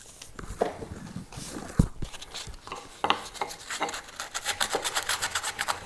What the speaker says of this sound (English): Now I'm going to have to do some hand sanding in here